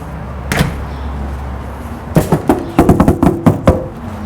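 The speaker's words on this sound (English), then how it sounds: "And knock on the door." Knocking on a door during a dog training session: one isolated thud, then a quick series of sharp, loud raps in an uneven rhythm, close by, with no speech.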